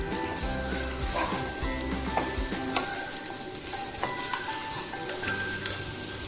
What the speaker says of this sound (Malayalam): ഇതെല്ലാം ഒന്ന് നെയ്യിൽ കിടന്നൊന്ന് ചൂടായി വരണം